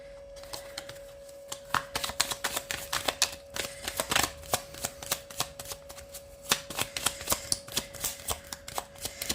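Tarot cards are shuffled close up in quick, uneven bursts of riffling snaps and flicks, with no voice over the rapid card noise.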